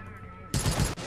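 A short, loud burst of rapid gunfire from the video game Wasteland 3 cuts in after a moment of quieter ambience, rattling close up for under half a second before dropping back.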